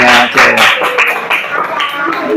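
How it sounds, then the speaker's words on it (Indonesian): A classroom group claps together in a dense, steady burst of hand claps lasting a couple of seconds, close and fairly loud, with voices mixed in. "Tepuk tangan sekali lagi. Mana tepuk tangannya?"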